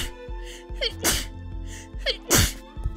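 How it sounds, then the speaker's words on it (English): A single sharp human sneeze bursts out loudly and close, followed by a smaller second burst, over a steady droning game soundtrack during a gameplay session. "I had to sneeze."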